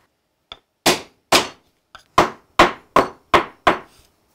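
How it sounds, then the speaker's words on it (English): Nine close, sharp hammer blows drive wooden butterfly keys into glued mortises in a tabletop, in an uneven rhythm, two of them lighter taps, with silence between strikes. "and hammer the butterflies in."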